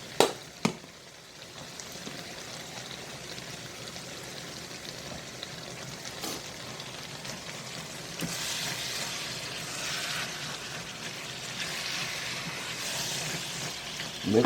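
Meat coated in jerk seasoning, black pepper and complete seasoning fries in a pan, giving a soft continuous sizzle with a few sharp knocks at the start and gentle stirring that swells toward the end.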